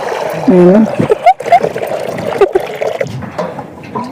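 Water splashes and trickles amid lively voices and laughter, with brief splatters breaking through the chatter.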